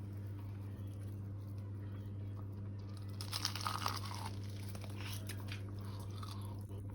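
Crisp crunching bites into a coconut fried chicken wing, a burst of crackly chewing and crumbling in the middle over steady low background hum, close and fairly quiet.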